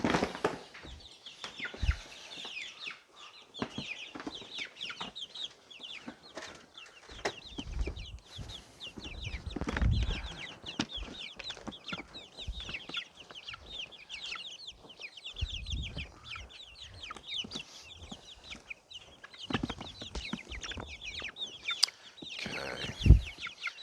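Backyard chickens clucking and murmuring while being moved from an indoor coop to an outdoor coop, several hens close by, with irregular calls and a few louder squawks over about twenty seconds.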